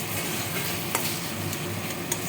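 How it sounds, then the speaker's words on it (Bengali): Spices being stirred and fried in a pan for tomato rice, with salt, turmeric and Kashmiri chilli powder in the mix: a steady close sizzle with scraping stirs and a few sharp clinks of the spoon. "মশলাটা আমার কষানো হয়ে গেছে"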